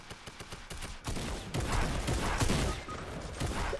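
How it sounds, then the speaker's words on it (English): Rapid weapon fire from a video game, a dense crackling barrage that swells after the first second and stays loud and continuous throughout, with no voices over it. "Fire my laser?"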